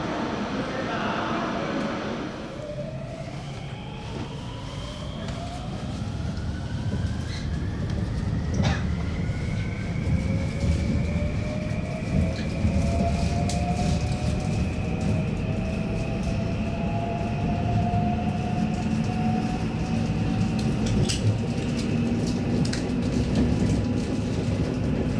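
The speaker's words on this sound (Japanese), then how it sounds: "そんな521系の普通列車で金沢駅まで乗車していきます" JR West 521 series local train running on the Hokuriku Main Line in Fukui toward Kanazawa, a steady close interior rumble with rising and falling motor whine, heard continuously from inside the car.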